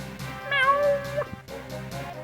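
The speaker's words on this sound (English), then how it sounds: "Oh, just a stupid cat." A cat in Final Fantasy VI gives a single clear, rising-and-falling meow over rhythmic background game music.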